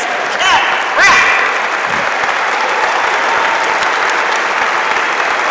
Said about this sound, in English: please give a round of applause for the founder of the Midlands Championships, Ken Kraft.